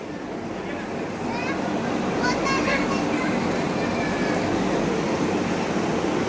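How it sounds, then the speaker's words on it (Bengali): The Vande Bharat Express, 22301 Howrah–NJP, pulls into a station platform as a steady broad rumble and rail hiss, heard beneath nearby voices, including children, on the platform. "বন্দে ভারত সবে ঢুকলো 22301 up Howrah NJP Vande Bharat express"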